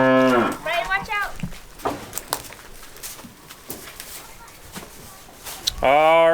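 Cows on a farm moo loudly at the start and again at the end, with another lowing call just after; quieter shuffling and faint speech fill the gap between the calls.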